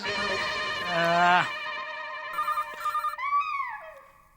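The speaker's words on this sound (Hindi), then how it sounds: "अरे नट्टू काका, सेठ जी का फोन" A telephone rings in a sitcom household, an electronic ringtone with warbling, wavering tones that rise and fall. A voice may be heard briefly near the start.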